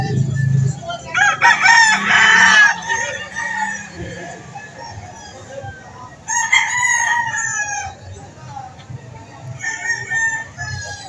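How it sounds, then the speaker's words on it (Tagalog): Several roosters crow loudly in turn at a chicken market in Lipa City, Batangas, long rising calls separated by pauses, with clucking and busy background noise from a crowded poultry area. "Tiyanggihan ng manok."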